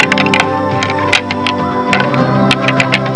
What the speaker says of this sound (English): This is the sound of dominant bucks doing battle.